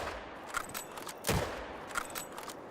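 Hunting rifle shots at mule deer in theHunter: Call of the Wild, a couple of faint, sharp cracks with one stronger shot in the middle amid quiet ambient noise.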